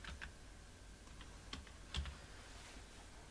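Password typed on a computer keyboard, a few sparse, faint key taps spread across a quiet stretch with a slightly louder press near the middle.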